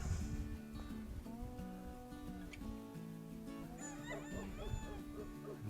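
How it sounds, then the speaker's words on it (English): Faint dogs barking in the distance, mixed with clucking fowl and a steady outdoor hum; no one speaks. "the puppies are barking in the background"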